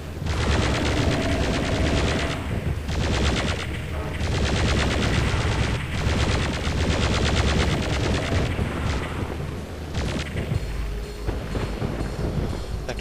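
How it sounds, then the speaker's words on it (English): Chaingun fire in Doom 64, a dense, continuous rapid burst of shots running loud for the whole stretch, with only brief pauses in the stream. "Somebody tells me I'm about to use up all my chain gun here."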